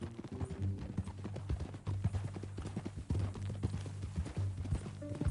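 Horse hooves clip-clop at a steady walking rhythm in Red Dead Redemption II, close and even, with a low music bed running underneath and no voices.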